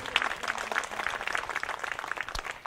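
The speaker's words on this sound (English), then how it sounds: "I think that's worth a round of applause right there" An audience claps softly at a Martin Luther King Jr. scholarship reception, faint and somewhat distant scattered clapping filling a few seconds.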